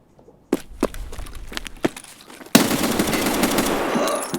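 An M1A rifle with a short barrel fires in Escape From Tarkov: several sharp, separate shots ring out, followed by a sudden loud burst of sustained noise.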